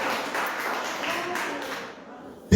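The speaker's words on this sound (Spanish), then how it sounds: "Denle ese fuerte aplauso a Él" A church congregation applauds at a Sunday service, soft broadband clapping that stays fairly distant and steady, then fades near the end before a sudden close knock.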